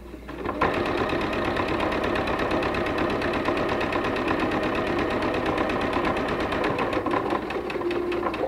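A sewing machine chain stitches quilt pinwheel pieces in a continuous fast, even whirring run that starts abruptly after a brief pause and holds steady and close, with no talk over it.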